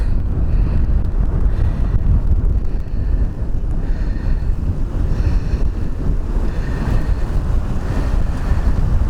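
Strong wind roars steadily against the microphone at a hilltop fire lookout tower, a loud continuous buffeting rush with gusty swells and no talking throughout.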